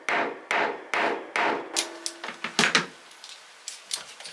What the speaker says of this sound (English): and we'll hammer that into place.